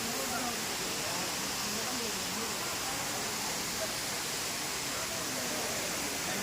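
Waterfall water pouring steadily at Aakaya Gangai in the Kolli Hills, a dense unbroken roar of falling water that fills the clip at close range, constant from start to finish with no pauses or changes.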